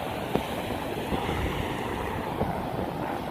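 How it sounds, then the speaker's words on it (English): Ocean surf churns on an Australian beach, a dense, rough wash of breaking water mixed with wind buffeting the microphone, steady and close for a few seconds. "there's another wave arriving"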